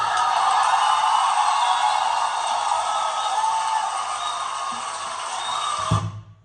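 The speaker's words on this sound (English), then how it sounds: "Why are they clapping and cheering?" Dense applause and cheering from a stand-up comedy audience, steady and loud for several seconds before cutting off abruptly near the end.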